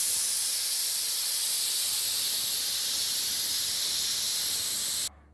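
Steady, loud broadband hiss of steam venting from a pressure cooker during the release of pressure before opening, holding constant for about five seconds, then cutting off abruptly.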